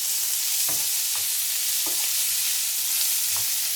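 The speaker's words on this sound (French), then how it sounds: "Et je mélange bien" A spoon scrapes and stirs chickpeas and chorizo seasoned with paprika in a hot pan, giving several separate soft scraping strokes over a constant sizzling hiss.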